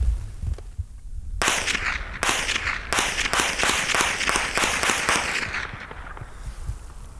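A string of 7.62x39 rifle gunshots heard from downrange: about eight sharp, loud cracks in an uneven rhythm, each followed by a brief rumbling tail, over steady background noise.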